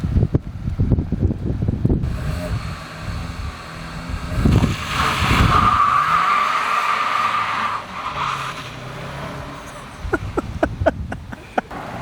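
A car doing a burnout, its tires skidding in a long squealing screech that builds through the middle, with engine roar and wind buffeting, followed by sharp pops and short exclamations from people nearby.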